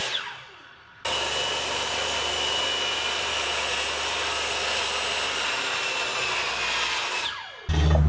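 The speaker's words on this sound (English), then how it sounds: "with my saw set back to 90 degrees, I'm just going to cut that bevel right back off." A power saw set to 90 degrees trims a bevel off an oak slab. The high motor whine cuts in abruptly, holds loud and steady for about six seconds, then spins down.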